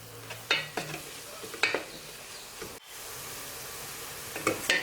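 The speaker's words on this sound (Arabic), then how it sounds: "غادي نخليو هادشي غير يتشحر مع بعضياتو" Ingredients seasoned with salt, spices and garlic powder sizzle in a pan, with a spoon stirring and scraping against the metal in several short clattering strokes over a soft steady fry.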